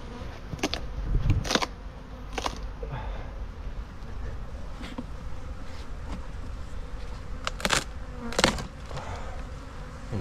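Thousands of bees hum inside a tree being cut open for removal, a steady close buzz with sharp passes of individual bees, under scattered handling noises.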